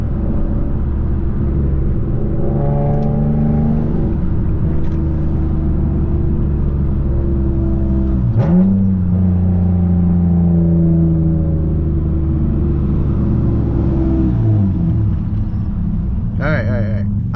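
A 6-speed manual-swapped Nissan Maxima accelerates hard in second gear, its engine drone loud and close from inside the car and climbing steadily in pitch over a constant rumble.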